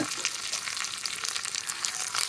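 Garlic cloves and curry leaves frying in hot oil for a sambar tempering give a steady, bright sizzle with fine crackling, close and continuous and without speech.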